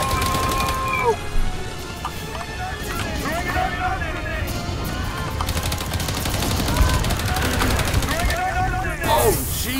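Rapid, loud bursts from a mounted gun turret in the co-op shooter Earthfall, firing continuously against alien enemies, mixed with players' shouting and other game noise.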